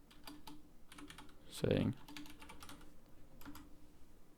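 Steady typing on a computer keyboard while entering a greeting in a Botpress chat, a rapid run of light clicking keystrokes beneath a voice speaking throughout.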